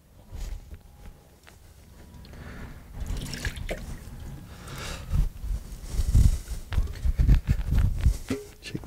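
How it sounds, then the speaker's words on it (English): Water rinsing through a rain gauge funnel during a field cleaning and calibration check, splashing and trickling at close range with irregular drips and a fuller gush toward the end. "Run some water through it."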